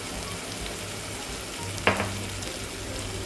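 Green chilies and coriander sizzling in hot oil for a kadhi tempering, a steady crackling fry with a brief louder burst of sizzle midway as something is stirred or added.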